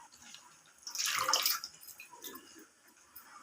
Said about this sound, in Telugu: ఆలోపు గోంగూరని ఫ్రెష్గా కడిగి పక్కన పెట్టుకోవాలి.